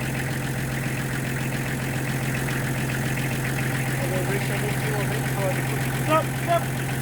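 Tractor engine idling while its forks lift a slung concrete slab, a steady low mechanical hum with a constant drone, with faint voices calling out over it.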